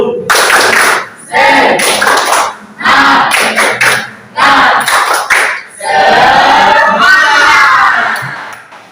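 Classroom students standing and performing a rhythmic spirit clap chant, loud bursts of shouted voices and hand claps in repeated phrases separated by short pauses, close and energetic.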